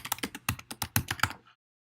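Rapid bursts of computer keyboard typing, a dozen or so close clicky keystrokes in quick succession for about a second and a half, then silence.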